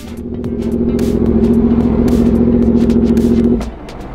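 A Suzuki or Yamaha superbike engine, a 2022 GSX-R1000R, Hayabusa or 60th Anniversary R1, revs hard and loud up close with the rear tire spinning through third gear, a sustained roar for about three and a half seconds before cutting off abruptly.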